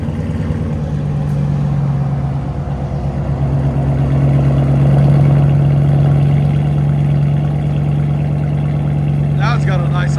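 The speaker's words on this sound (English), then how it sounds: "Now it's got a nice idle to it." Steady, loud, close idle of a 2014 Dodge Charger R/T 5.7L HEMI V8 with straight-pipe true dual exhaust, a constant low throb that swells slightly midway, with a brief voice near the end.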